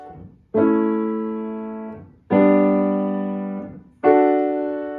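Three sustained chords played one after another, each struck and left to ring and decay, settling on a final resolving chord.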